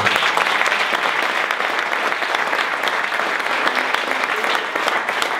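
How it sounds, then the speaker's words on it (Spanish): A church congregation at a Spanish-language evening vigil service applauds steadily, a dense, sustained burst of clapping from many hands filling the room throughout, with no voices rising above it. "Denle un aplauso al Señor."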